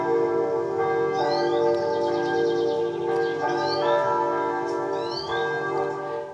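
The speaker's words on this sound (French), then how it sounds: "Et voilà l'oiseau." Church bells ring with sustained resonant tones while a bird sings over them in repeated high, sweeping glissando phrases, the calls recurring several times against the steady bell hum.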